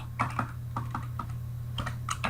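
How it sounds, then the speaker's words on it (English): Quick, light keystrokes on a computer keyboard, about a dozen close clicks in short irregular runs over a low background hum. "I can type today."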